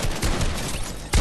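Gunfire in the video game Fortnite sounds as a short burst of close, loud shots, with a heavier blast at the end.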